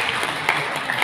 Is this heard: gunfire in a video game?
no